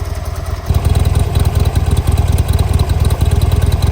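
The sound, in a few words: V-twin motorcycle engine idling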